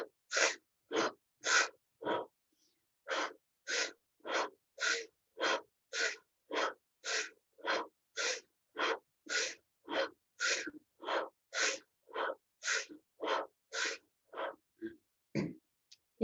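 Open-mouth breathing exercise: a fast, steady run of about two dozen sharp, breathy inhales and exhales through the open mouth, close and even, with a short pause early on and no talking.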